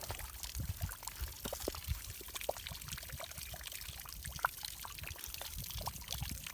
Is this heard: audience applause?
no